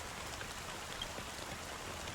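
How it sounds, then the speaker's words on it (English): Rain falls in the Honkai: Star Rail video game, a soft, even, continuous patter with scattered droplet ticks and no speech. "how long has this rain been going on for?"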